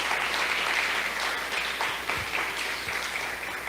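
A church congregation at a thanksgiving service applauds together, steady dense clapping filling the room for several seconds without a break.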